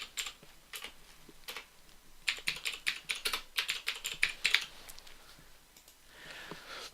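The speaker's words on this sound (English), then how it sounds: "I'm going to type in sampling points" Typing on a computer keyboard while renaming a layer in QGIS: irregular bursts of close, crisp key clicks, sparse at first, then a dense rapid run in the middle before trailing off into quiet.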